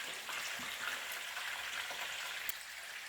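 Fish fries in a covered pan, producing a soft, even sizzle that holds steady at low volume with a few faint pops.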